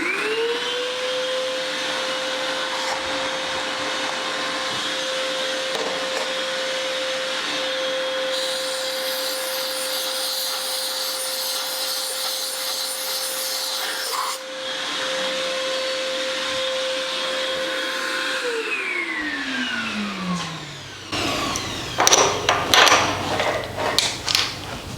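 A valve seat cutter works the valve seats of a GM 5.3 engine, giving a sustained high whine and steady cutting noise that winds down toward the end, followed by clattering handling noises.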